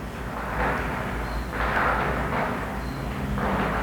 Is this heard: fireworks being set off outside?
yes